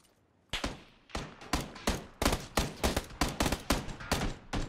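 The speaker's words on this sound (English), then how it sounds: "Oh, I got shot from the other side." Rapid bursts of gunfire in the battle royale game PUBG, about a dozen sharp, loud reports in an irregular rhythm with a fast run of shots, close by and alone with no talk.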